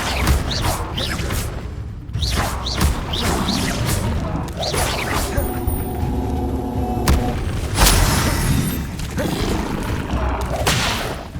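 Hogwarts Legacy Incendio fire spell casts: repeated whooshing bursts and crashing booms, loud and close over continuous game combat noise and music.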